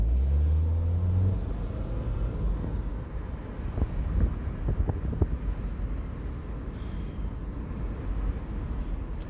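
A 2009 Subaru Impreza, recently rebuilt, accelerates under hard throttle from inside the cabin, a low engine rumble and road drone with a rising tone early and steady wind noise throughout.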